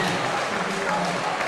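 Crowd at a high school basketball playoff game cheering and applauding in a gym, a dense, steady roar blended with a commentator's voice.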